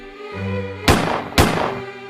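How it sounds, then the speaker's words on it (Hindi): An old gun is fired in anger in an animated Hindi story, two sharp, loud gunshots about half a second apart, each decaying quickly over a steady low tonal hum. "गुस्से में गोली चला देता है"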